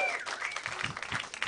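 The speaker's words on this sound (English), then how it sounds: "What a brave crowd clapping for punching Nazis." Audience at a live comedy festival show applauding, a dense wash of clapping hands throughout the short burst, with a faint voice briefly over it.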